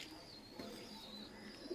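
Pigeons coo softly in a pigeon loft, a faint low murmur of repeated coos running steadily through the short stretch with no voices.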